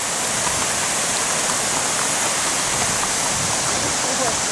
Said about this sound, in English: This is Chestnut Creek, and it goes right into the New River